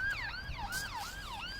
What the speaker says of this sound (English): Fucking ambulance ruining my scene.